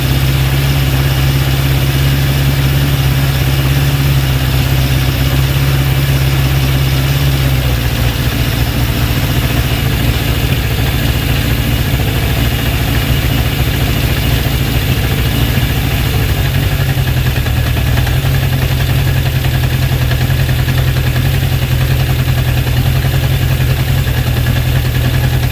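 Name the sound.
Honda CB750 K2 motorcycle engine idling during carb balancing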